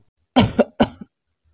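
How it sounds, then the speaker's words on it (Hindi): A person coughs twice in quick succession, close and clear, each cough a short harsh burst followed by a small catch, then silence. "जब देखो खांसते रहते हो।"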